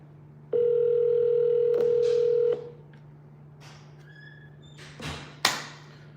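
A telephone line gives a steady dial tone for about two seconds, then stops, followed by a few faint tones and soft taps, ending with a couple of sharp thumps nearby.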